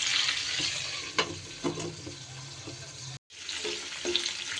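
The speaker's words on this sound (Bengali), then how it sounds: "এমনভাবে ভাজা করব যে পটল আলু ভাজা ভাজাও হয়ে যাবে, আবার সুন্দরভাবে কিন্তু সিদ্ধও হয়ে যাবে।" Potato and pointed gourd pieces fry together in a pan with a steady close sizzle, broken by a few sharp clinks of stirring and one brief silent gap.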